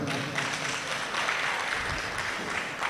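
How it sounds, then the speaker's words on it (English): An audience at a corporate special-day event applauds steadily and fairly loudly for close to three seconds, a dense continuous wash of clapping with some background voices mixed in. "Clap for the women."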